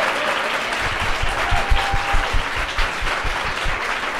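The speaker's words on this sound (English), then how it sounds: "Let's give them a big round of applause again." A live audience at a writers festival event applauds the writers, a steady, dense round of clapping with no talking, filling the room at a fairly even level throughout.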